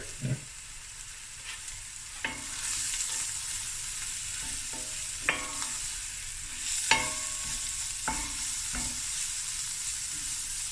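Masala spices frying with lamb in a hot pan give a steady sizzle, broken by sharp stirring clinks and scrapes, with no talking.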